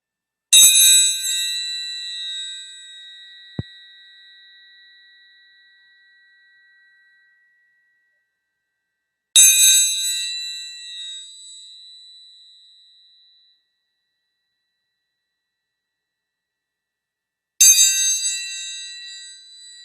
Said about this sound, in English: placing your hand over your heart as a bell rings